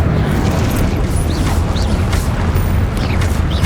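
A spell cast in the Hogwarts Legacy video game, heard as loud, dense, continuous roaring bursts, with booming low rumble and a few brief whooshing sweeps on top, no talking.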